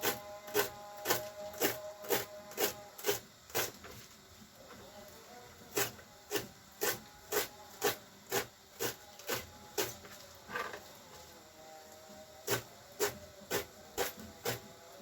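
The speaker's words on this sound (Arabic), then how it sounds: "نحاول باش نقطع هاد الشيء رقيق" Close up, a knife slices green vegetables thinly on a board in quick, regular strokes that come in several bursts of rhythmic cuts with short pauses between them.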